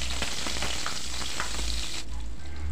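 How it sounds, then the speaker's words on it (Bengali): Panch phoron and slit green chillies frying in hot oil, a close, steady sizzle with crackling pops that thins out near the end under a low hum. "5 ফোড়নটা দিয়ে এখন দিয়ে দিচ্ছি চেরা কাঁচা লঙ্কা 4 থেকে 5টা।"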